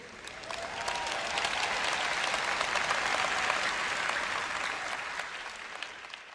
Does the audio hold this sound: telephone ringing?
no